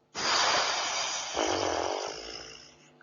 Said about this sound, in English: And now another French exhale.